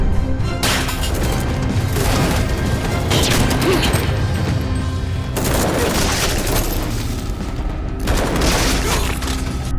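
Film gunfight with bursts of gunfire, crashes and impacts layered over a dense, loud action soundtrack, continuous throughout with several sharper bursts.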